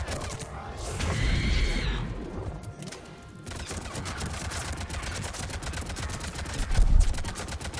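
Incendiary-ammo gunfire in the Mass Effect 3 video game, fought through an Asari colony: dense, rapid shots crackle steadily with a louder burst near the end, mixed with clanking mechanisms.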